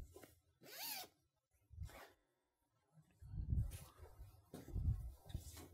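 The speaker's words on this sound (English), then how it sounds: "The first thing you want to do is unzip the top cover and pull it back." A mattress top cover is unzipped in a quiet room, several short rasping zip pulls separated by pauses, with soft rustling and fabric handling in between.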